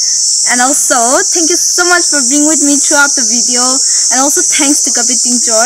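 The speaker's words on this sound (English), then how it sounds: "You can hear the crickets chirping." Steady high-pitched cricket chirping fills a sunny spring day in a Manipur village, a constant insect drone running beneath a man's continuous nearby speech.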